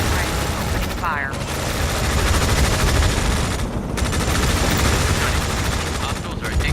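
Rapid gunfire from units opening fire in the strategy video game Tom Clancy's EndWar, dense and continuous at loud level, with radio-style voice callouts over the shooting.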